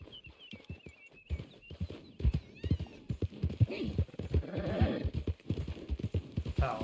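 A horse in Red Dead Redemption clip-clops along with hooves thudding in a steady, uneven rhythm and a high whinny early on, the game's ambient sounds underneath and the effects fairly quiet overall.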